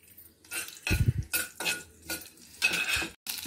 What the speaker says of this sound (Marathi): आता राई माझी चांगली तळतळली